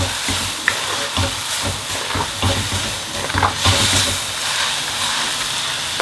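Chicken chow mein being stirred and tossed with sauce in a hot pan, a steady sizzle under repeated scraping and clattering stir strokes, close and fairly loud throughout with no talk.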